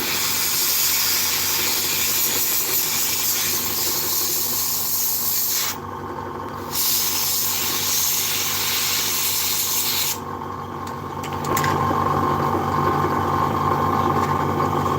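Paint sprayed in coats onto a 1/48 scale Italeri Pave Hawk model, a steady close airbrush-like hiss running throughout with two short breaks in the spray.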